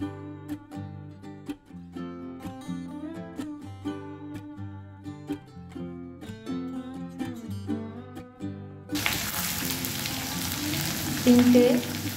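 Vegetables such as pointed gourd, papaya and long beans with slit green chillies and steamed potato frying in oil in a pan, a steady close sizzle breaking in loudly after a stretch of quiet music.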